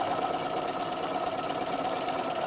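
A sewing machine stitches in a steady, even whir of rapid needle strokes, continuous and close, with no pauses and no talking.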